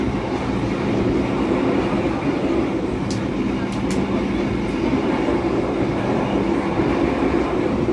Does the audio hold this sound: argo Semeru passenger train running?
yes